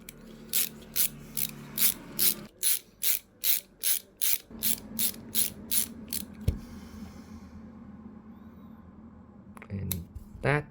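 Ratchet wrench tightening M3 by 50 bolts while a 3D printer tool-head is assembled: a steady run of about fifteen sharp, evenly spaced clicks, close and fairly loud, then a quiet pause and a last brief burst of clicks, with no talking.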